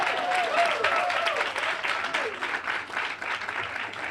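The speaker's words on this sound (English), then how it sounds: "Let's give her a round of applause." A grand-opening crowd in the 22nd ward applauds a newly appointed committee chair, steady dense clapping filling the room for about four seconds, with a few whistles and voices rising over it.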